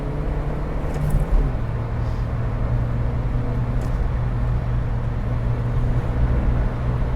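Ford Ka engine pulling steadily at around 60 on a wet road, a continuous low drone with road and tyre rumble and a slight rise in pitch partway through, close and fairly loud.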